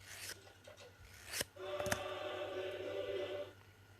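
A nail file rasps downward over the edge of a glitter nail wrap to take off the excess, a few close, quiet scratchy strokes with a sharp click partway through.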